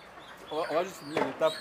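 Live chickens cluck in a poultry shop where hundreds of birds are slaughtered daily, a few close, fairly loud bursts of clucking over a quiet background.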